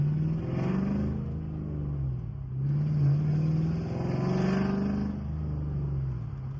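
A supercharged 4.6 3V Ford Mustang accelerates hard with traction control off, its engine droning loudly through two rising pulls separated by a brief dip, blower whine on top.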